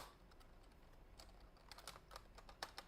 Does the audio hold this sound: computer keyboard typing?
yes